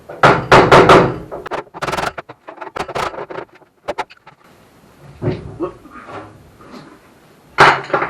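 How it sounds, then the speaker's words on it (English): A sharp chisel struck with a small hammer pops the spot welds on a steel front panel of a Metro 6R4 replica: a quick run of loud metallic blows, then irregular taps and scrapes, with a final heavy burst of strikes. "we're going to get a sharp chisel, smallish hammer, and we'll just chase down all the spot welds"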